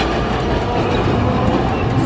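Loud, steady rumble and rattle inside an old retro-style electric train in Toyama running on rails, with a continuous low roar of wheels throughout and no talk.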